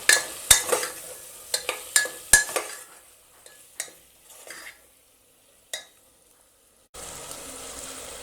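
Masala with garam masala is stirred and fried in a pan for raw mango biryani: a run of sharp spoon-against-pan scrapes and clinks over a soft sizzle, thinning into sparse taps and then a steady hiss near the end.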